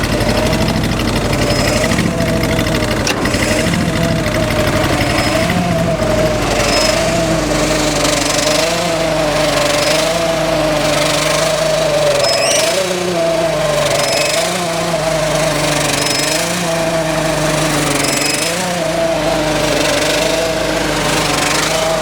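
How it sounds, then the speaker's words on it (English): A supercharged car engine with a big camshaft idles loudly and close up, its lopey, slightly uneven rhythm wavering steadily throughout with a faint whine on top. "This thing had a lot choppier idle at this particular RPM before the supercharger."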